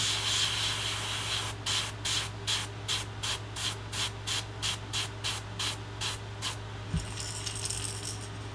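An airbrush sprays silver paint onto a fishing lure in short, rhythmic bursts, about a dozen evenly spaced puffs of hiss over a constant low compressor hum, close and clear with no talking.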